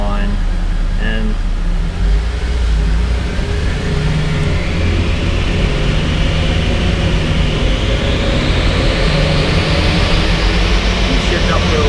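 A Renault Clio 4 RS 200 engine pulls hard and shifts up through the gears, loud and continuous, with the engine note climbing steadily after each change.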